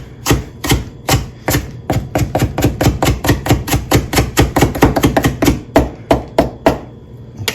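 Rapid, crisp knife strokes chop pineapple on a cutting board, dozens of sharp close thuds in a quick, uneven rhythm, loud and dry with no talking.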